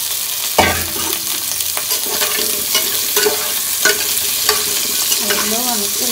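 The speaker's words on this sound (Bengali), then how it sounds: "আলুগুলো আমি একটু ভেজে নিব।" Small potatoes, some peeled and some unpeeled, frying loudly in a pan with a steady bright sizzle, a sharp clank near the start and repeated stirring scrapes, with no voices.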